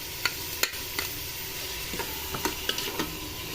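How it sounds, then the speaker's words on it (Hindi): Beef fries with garlic in a pan, giving a continuous close sizzle while a spoon stirs and scrapes in irregular clinks and knocks over a few seconds, with no talk. "इसको हम भूनेंगे लहसुन डालकर।"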